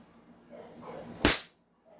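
A single sharp crack from a 2011 Night Hawk air rifle being fired, a loud brief burst after quiet room sound, then silence.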